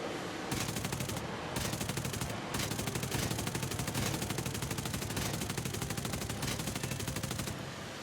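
A SAAB 21's 20mm cannon fires in War Thunder in long, continuous rapid bursts, a dense loud rattle that runs for seconds with only brief pauses between strings of shots.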